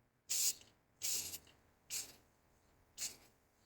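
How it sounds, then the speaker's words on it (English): Four separate bursts of spray paint hiss onto a 1967 Pontiac GTO model car kit on a chilly day, each lasting a fraction of a second with short pauses between, close and fairly quiet. "we'll just start spray painting"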